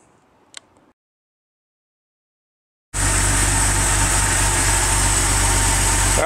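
A 1987 Porsche 911 engine bursts to life after a stretch of near silence and keeps a steady, loud, close idle during an oil change with engine flush added.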